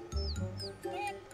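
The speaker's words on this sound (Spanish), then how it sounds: "Sí, escucho pájaros." Birds chirp softly in The Sims 4, with short high tweets rising and falling a few times in the background under a low hum and brief talk.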